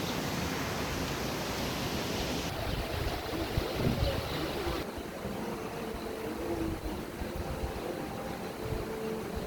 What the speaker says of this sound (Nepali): खोलाको आवाज सुनिरहेको छौँ।